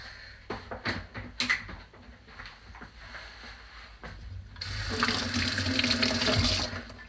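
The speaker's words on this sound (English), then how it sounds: "And wash my hands again. Forever washing hands." Water runs from a kitchen tap while hands are washed during vegetarian bean burger preparation, with scattered knocks and splashes first, then a steady louder gush for the last two seconds.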